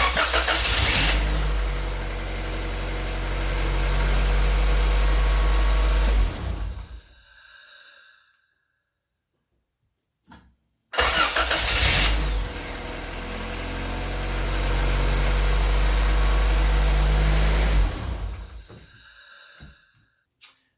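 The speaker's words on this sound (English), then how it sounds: "I'm gonna do a quick test to make sure that the starter fires up the car." A Honda Civic B18B1 engine with a newly installed starter cranks and catches twice, each start settling into a loud, steady idle for several seconds before cutting off, with a brief silent gap between the two runs.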